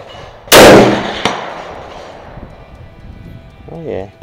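A custom Mosin Nagant rifle firing hand-loaded rounds gives one loud, sharp shot at a steel target, followed about a second later by a faint metallic ring from the steel, with talk starting near the end.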